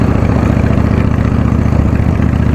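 A custom motorcycle engine runs close by on a rural farm, a loud, steady, low rumbling idle with a rapid, even pulsing beat throughout.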